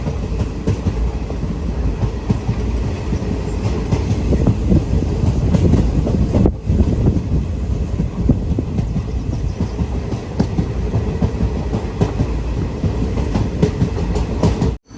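A weekly express from Mangaluru runs toward Puducherry station, its steady rumble and rhythmic wheel clatter loud and continuous from on board, with one brief dropout midway.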